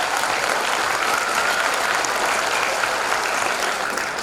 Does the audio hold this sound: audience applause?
yes